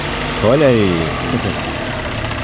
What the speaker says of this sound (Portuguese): Pedi para que o amigo desse partida para a gente escutar aqui o ruído do motor.